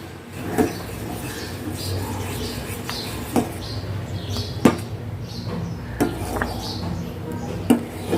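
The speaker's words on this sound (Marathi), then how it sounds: "याला मी असं कंटिन्युअसली हलवून घेते तुम्ही पाहू शकाल" A spoon stirs custard made with custard powder continuously in a pan, scraping and clinking against the metal in light, spaced taps over a quiet kitchen background.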